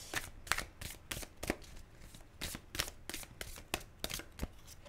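Tarot cards are shuffled for a reading in a quick series of crisp, close riffles and flicks at an irregular rhythm, quiet overall.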